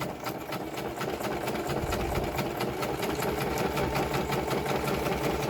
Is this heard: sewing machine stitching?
yes